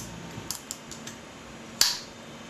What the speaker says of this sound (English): I'm going to put that inside the vacuum chamber of the scanning electron microscope.